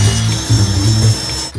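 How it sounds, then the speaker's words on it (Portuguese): A saw cuts wood while students build do-it-yourself furniture, giving a loud, steady buzzing drone with slight pulses that runs for under two seconds and then stops abruptly. "serra,"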